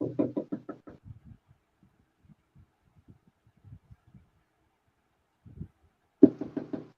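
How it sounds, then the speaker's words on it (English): A hand knocks on the door of a suite in a home: a quick run of sharp raps, a long quiet pause with faint scattered taps, then another rapid burst of knocks. "Let me knock on the door."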